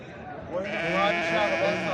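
A sheep bleats loudly and close by at a livestock market, a long wavering cry lasting over a second, with voices talking faintly in the background.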